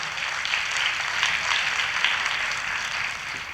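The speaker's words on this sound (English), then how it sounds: "Let's have a round of applause for all of us and for this initiative." A wellness event audience in Pune gives a steady round of applause, a dense, even wash of clapping that holds at a constant level for several seconds with no voices over it.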